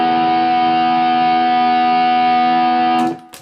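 A steady, buzzing electric hum with harsh distorted overtones from an idle fuzz pedal run into a second distortion pedal drones continuously, then cuts off abruptly near the end.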